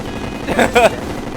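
Rapid gunfire from Terraria aimed at the Moon Lord's eye, two short bursts of shots standing out briefly over a busy game backdrop.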